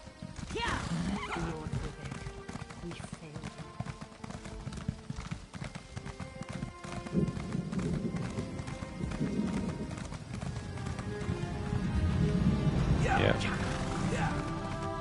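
Rhythmic clip-clop of horse hooves at a steady trotting pace in The Elder Scrolls Online, with occasional whinnies, continuing throughout against a soft background.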